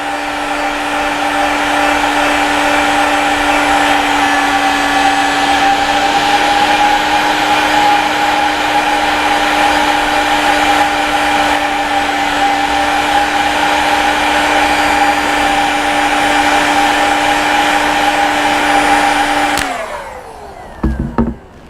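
A heating device blows hot air to warm an EXOS orthopaedic insole for moulding, a loud, close, steady whirring drone that runs unbroken for about twenty seconds before switching off with a few clicks.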